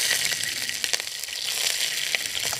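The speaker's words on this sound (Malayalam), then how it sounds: "കടുക് പൊട്ടിക്കഴിഞ്ഞു മുളക് ഇട്ട് കൊടുക്കാം" Chillies sizzle and crackle in hot oil along with mustard seeds that have already popped, giving a steady close frying hiss with scattered sharp pops.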